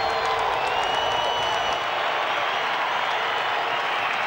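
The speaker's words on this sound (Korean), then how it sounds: "기립박수를 보내주는 다저 스타디움의 팬들" A packed Dodger Stadium crowd rises for a standing ovation during a late-game at-bat, producing a dense, steady roar of clapping and cheering that fills the whole stretch without letup.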